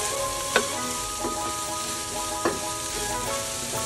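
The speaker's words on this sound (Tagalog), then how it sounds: "pagtapos natin doon igisa yung balon-balunan tsaka itong carrot" Chicken gizzards and carrots sauté in hot oil for a lomi dish, giving a steady close sizzle with a few sharper spatters and clinks of stirring.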